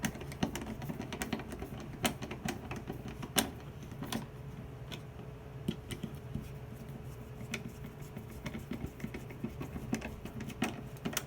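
Screws being driven into the sides of a wooden birdhouse during assembly, heard as a dense run of close, irregular clicks and small taps over a steady low background, with no one talking.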